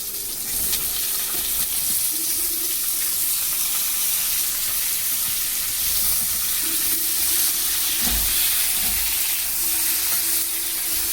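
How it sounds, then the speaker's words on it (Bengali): Cubed potatoes and eggplant frying in a pan with browned onions, a steady close sizzle and hiss throughout with occasional soft stirring thumps. "পেঁয়াজটা ভালো করে ভাজা হয়ে গেছে, এবার সবজিটা তুলে দিচ্ছি"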